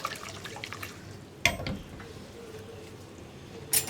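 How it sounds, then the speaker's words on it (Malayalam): Water pours into a cooking pot of chopped yam being prepared for a stir fry, a soft running splash with a sharp clink partway through and another at the end. "ഇനി നമുക്കിതിലേക്ക് ചേന കുക്കാവാൻ ആവശ്യമായിട്ടുള്ള വെള്ളം ചേർക്കുക."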